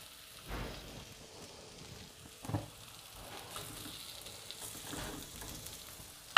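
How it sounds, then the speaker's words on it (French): Vegetables with a little water cooking in a pan, a soft, steady sizzle and bubbling with a few louder crackles, close but fairly quiet, with no talking. "je vais poser mes légumes et je vais mettre un peu d'eau et je vais laisser bien mijoter tranquillement"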